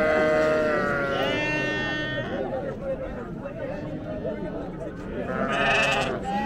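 Sheep bleat loudly and repeatedly, overlapping with one another, while a crowd murmurs and people talk throughout at a livestock market before Eid al-Adha.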